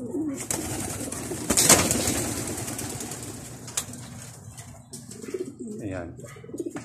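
Pigeons coo and murmur close by in a continuous flock chorus, with a burst of wing flapping and background human voices.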